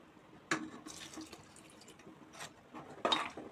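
Water splashes and trickles in short bursts into a cooking pot, close and fairly quiet, with brief pauses between pours.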